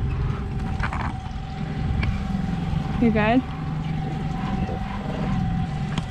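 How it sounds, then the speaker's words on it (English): A motorboat engine idles and rumbles steadily as the boat is driven very slowly, a low continuous drone with people talking over it close by and a brief whistling tone near the middle. "we're gonna drive the boat"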